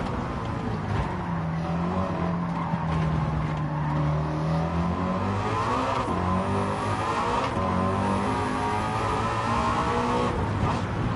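A big American V8 engine in Gran Turismo 7 revs loud and continuous, its deep droning pitch rising and falling over the whole stretch, with a gritty, tyre-scrubbing edge and no talk.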